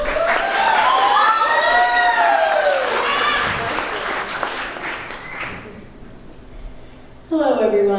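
A wedding reception crowd breaks into loud applause and cheering for the toast speakers, dense clapping with shouts and whistles that fades out, followed by a voice starting to speak.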